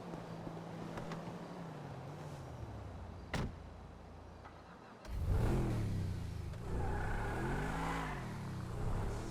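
A Pegassi Adder supercar in the GTA 5 video game idles with a door thud, then the engine roars and revs up in rising, falling sweeps, loud and close without talk.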